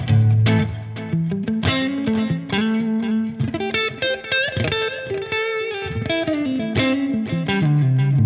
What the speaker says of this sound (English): add maybe some reverb to it and a dab of delay, some compression